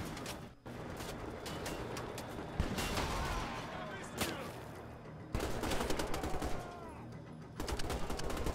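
Gunfire from powerful, slow-reloading weapons in the video game Wolfenstein: The Old Blood, with repeated bursts and sharp shots over a dense game mix and bursts of louder action.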